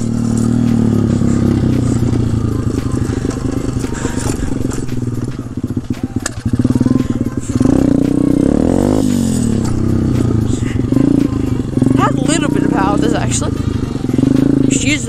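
Pit bike engine under way while riding, a cheap small bike with soft suspension, its motor droning steadily throughout and rising in pitch as it revs, with a person talking over it.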